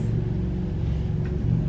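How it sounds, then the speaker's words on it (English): Steady low engine rumble of traffic in the background, a continuous drone with no voices. "If you hear cars in the background or motorcycles"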